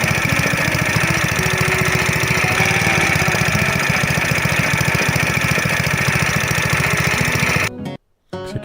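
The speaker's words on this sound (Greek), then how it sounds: "Χαμηλώνουμε τις στροφές του κινητήρα και αφήνουμε να δουλέψει λίγα λεπτά για να ζεσταθεί" A Nakayama MB 5005 petrol tiller engine idles steadily at lowered revs while warming up, with a rhythmic chugging rumble, loud and close, then cuts out abruptly near the end.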